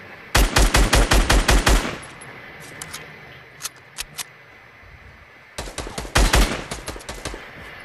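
Rapid automatic gunfire in a video game, loud and close, in a tight burst at the start. Scattered single shots follow, then another sustained burst, with no talking.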